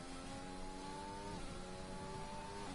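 Racing car engine in a video game at the Italian Grand Prix, braking hard into Parabolica: a steady high engine whine that drops in pitch in stepped downshifts.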